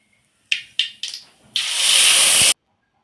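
Hot oil in a frying pan sizzles in a few short, sharp hisses as mustard seeds and ground masala go in, then in one loud sustained sizzle that stops abruptly.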